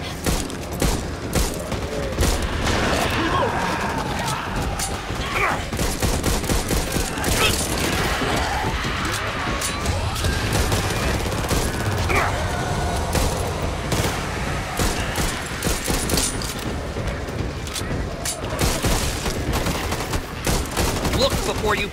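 Rapid gunfire rattles almost nonstop during Back 4 Blood gameplay, loud dense bursts and volleys overlapping for the whole stretch, with occasional voices speaking beneath the shooting.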